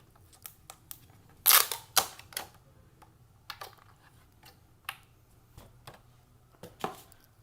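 Packaging for a Microsoft Surface Go 2 Signature Type Cover is opened, giving scattered sharp clicks, taps and a louder burst of crinkling rustle, close and otherwise quiet.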